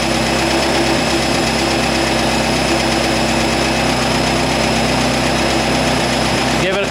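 An air-cooled Volkswagen engine with a Solex H30/31 PICT carburetor idles steadily, a loud, close, continuous rumble with a constant hum that never changes through the whole stretch.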